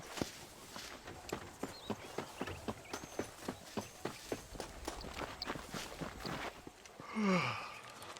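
A horse's hooves clip-clop in the Red Dead Redemption game, a steady trotting rhythm of soft, fairly distant hoofbeats over a low background, ending with a brief rising tonal game sound.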